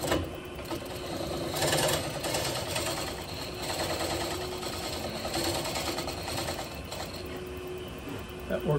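A skew chisel turns a shallow walnut bowl on a lathe, giving a continuous rattling, chattering cut with a steady machine hum and a high whine underneath throughout.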